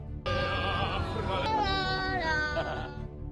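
Goats bleating at a goat show, a continuous wavering high-pitched cry with shifting harmonics over low background rumble, lasting a few seconds.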